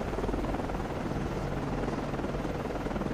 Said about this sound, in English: Con, Flyco, launching aircraft.